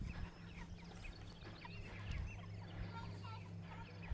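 A flock of meat chickens on fresh grass clucks and chatters continuously nearby, many overlapping calls forming a busy, close chorus over a low steady hum.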